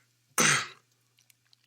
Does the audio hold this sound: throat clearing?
yes